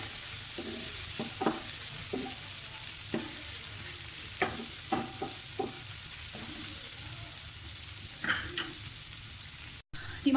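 Tomatoes sizzle steadily in a frying pan for shakshuka while a spoon scrapes and stirs in short, irregular strokes, close and moderately loud, with no talking.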